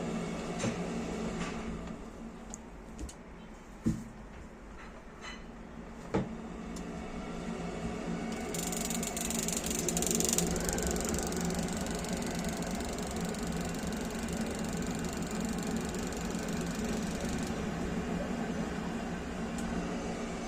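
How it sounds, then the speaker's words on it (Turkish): A Demirdöküm Atron condensing combi boiler runs with its fan going, a steady close mechanical hum and whir with a few small clicks and knocks, rising slightly midway and continuing alone without talk. "Cihaz çalışıyor, fan çalışıyor, fandan proses proses çalışıyor."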